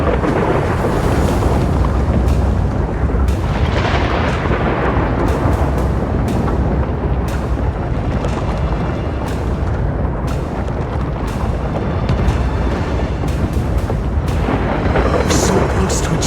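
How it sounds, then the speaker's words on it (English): Continuous rumbling thunder with crackling lightning strikes in the Honkai: Star Rail video game, a loud, dense roar running throughout with sharp cracks breaking through at intervals. "lightning and thunder"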